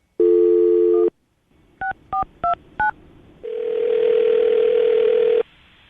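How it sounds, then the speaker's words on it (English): A short burst of dial tone, then four quick touch-tone beeps pressed one after another, followed by a long steady ringback-style tone. "All right, I'm gonna dial this phone number right now"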